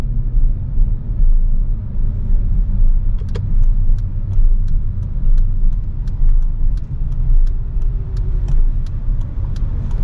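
A DIY electric conversion car with a manual gearbox drives along, with a steady low road and drivetrain rumble inside the cabin and a series of regular light clicks from the middle onward.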